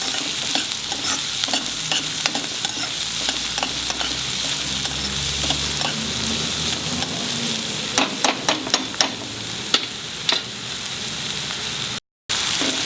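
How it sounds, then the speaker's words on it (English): Onions fry in a pan with a steady, dense sizzle while being stirred, with clusters of sharp scraping clicks from the utensil near the end, close and loud with no voices. "Fry the onions till they become semi-brown color, not too much brown. Keep on stirring so that you don't burn it."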